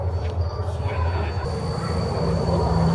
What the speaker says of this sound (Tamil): இது வரப்போகுதுங்க பனி புயல்.